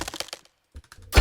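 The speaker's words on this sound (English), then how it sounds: "I have these sounds of wood and rock kind of crumbling to highlight the sounds of those spikes." Layered sound effect of wood and rock crumbling, a quick cluster of sharp cracks and brittle breaking snaps, then a brief gap, softer clicks, and a sudden loud burst at the end.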